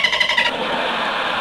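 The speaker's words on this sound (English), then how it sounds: "the splutter of an engine" An engine splutters as it starts, a quick run of choppy coughing bursts that settles into a steady loud running drone, close and alone.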